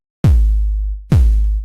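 Two deep, clean 808 kick drum hits, each a booming sub-bass thump with a long sustained tail, the second following about a second after the first, loud and alone with no distortion.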